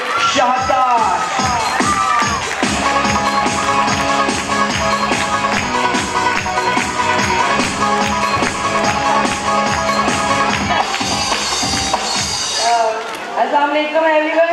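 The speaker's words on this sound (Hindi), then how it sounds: "भरपूर तालियां होनी चाहिए हमारी एक्स स्टूडेंट के लिए" Audience at a school Independence Day celebration cheering and clapping over loud music with a strong rhythmic beat, crowd noise and shouts blending under it before the music drops away near the end.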